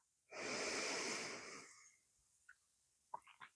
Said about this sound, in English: Taking a deep breath. And out.